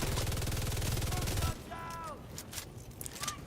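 Rapid automatic fire from a video game weapon, a dense, loud, fast burst that stops abruptly partway, followed by quieter game effects and chirps.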